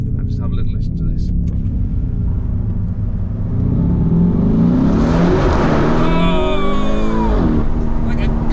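A Lamborghini Urus or Audi RS Q8 engine in Corsa manual mode, heard from inside the cabin while passing through a tunnel. A deep, steady rumble swells into a loud, guttural rev that climbs and then falls back.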